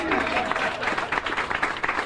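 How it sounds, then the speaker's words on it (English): An audience at a public event with local leaders in the Metro East applauds, dense continuous clapping from a crowd filling the whole moment, loud and fairly close. "And you can clap for that."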